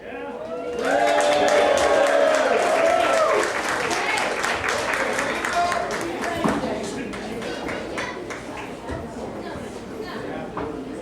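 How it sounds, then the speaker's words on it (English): A live audience at a ring event applauds and cheers as a guest martial arts master enters, with dense loud clapping mixed with crowd chatter and shouts, tapering slightly but continuing throughout. "give our special guest, a round of applause and welcome into the ring, Master Jay Lee"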